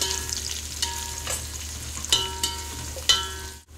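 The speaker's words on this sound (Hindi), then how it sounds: "ऑयल गर्म हो गया है, अब इसमें हम प्याज ऐड करेंगे।" Onions fry in hot oil for a mutton yakhni pulao, giving a steady sizzle broken by several sharp spatula clacks against the pot before the sound cuts off abruptly; there is no speech.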